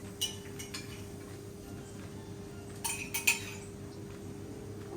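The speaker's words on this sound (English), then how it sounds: "you're gonna stir for me when I put in the curry" A spoon clinking against a metal pot while coconut curry tofu is stirred, a few sharp scattered clinks and taps over a quiet low hum, close by with no talk.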